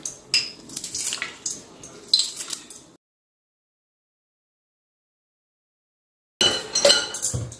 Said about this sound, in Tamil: கொத்தமல்லி கட் பண்ணிக்கலாம்